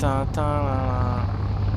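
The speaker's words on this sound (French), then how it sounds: "J'entends un hélico." Helicopter in the video game Call of Duty Modern Warfare 2, a steady rotor and engine drone with layered harmonics, heard close and loud throughout with a brief sharp burst near the start.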